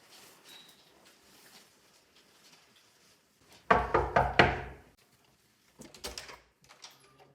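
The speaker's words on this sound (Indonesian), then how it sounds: "Terdengar suara ketukan dari luar kediaman Soekarno." Several sharp knocks on the door of a house sound in a quick burst, loud and near, against a quiet room, followed by a few softer taps.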